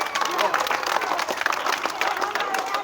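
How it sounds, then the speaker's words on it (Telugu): Schoolchildren at a Republic Day school celebration clap together in a dense, sustained round of applause, close and loud throughout. "పిల్లలంతా గట్టిగా చప్పట్లు కొట్టండి"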